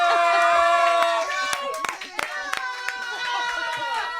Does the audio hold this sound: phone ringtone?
no